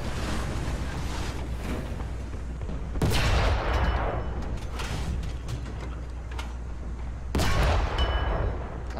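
Tank cannon shots in War Thunder, two heavy booming blasts several seconds apart, each with a sharp onset and rolling rumble over steady engine drone.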